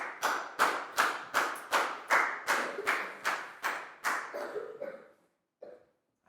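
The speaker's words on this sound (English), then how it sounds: "High five and a big round of applause for Down, please, guys." A classroom of pupils claps together for a classmate during a Year 4 maths lesson, a dozen or so crisp rhythmic unison claps close by that fade out near the end, followed by a single faint tap.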